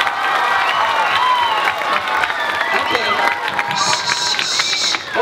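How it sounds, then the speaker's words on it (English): Audience at an elementary school performance applauds and cheers loudly and steadily for the performers, a dense, continuous wash of clapping with crowd noise and scattered shouts throughout. "we have to give these people up here a huge round of applause"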